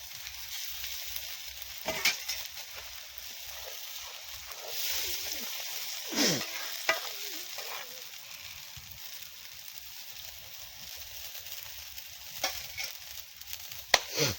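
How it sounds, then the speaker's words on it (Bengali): Eggs and potatoes fry in a pan at a forest campsite in heavy rain, a continuous hissing sizzle with scattered knocks and stirring sounds, moderately close and without talk. "এবার ডিম আর আলুটা দিয়ে দিই"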